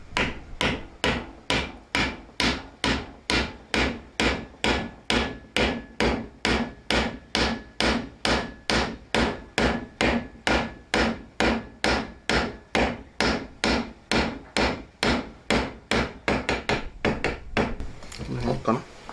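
A muffler retaining bolt on a car exhaust being hammered in: around forty sharp, evenly spaced metallic strikes, close and loud, speeding up slightly near the end.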